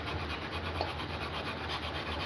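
A tool tip is rubbed across 400 grit abrasive to take off the burr, making a faint, steady, scratchy rasping with no talk.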